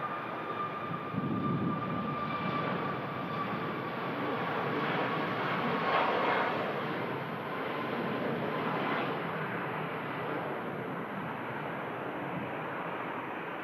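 A Gulf Air Boeing 787 Dreamliner airliner at Manchester Airport produces a steady broad jet roar with a faint high whine, moderately distant and sustained without break.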